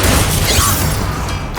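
A Confringo spell bursts in Hogwarts Legacy, a loud short blast with a crackling, shattering wash that holds for over a second and then fades slightly.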